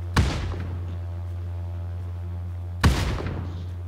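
Two sharp explosive blasts land about 2.7 seconds apart during a PUBG New State mobile battle-royale match, each a hard crack with a short ringing tail over a steady low engine-like hum.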